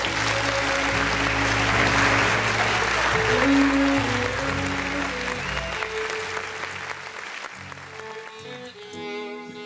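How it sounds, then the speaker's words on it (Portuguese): Guests applaud at a 15th birthday party, steady clapping over lingering background music and room noise, gradually thinning toward the end. "mais uma vez uma salva de palmas"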